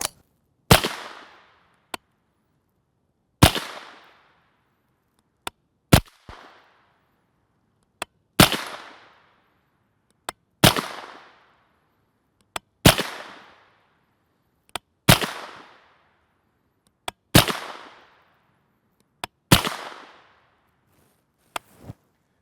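A 9mm straight-blowback firearm firing MaxxTech 124-grain full metal jacket rounds: about nine sharp, loud single shots spaced evenly a couple of seconds apart, each with a brief ringing decay and silence between.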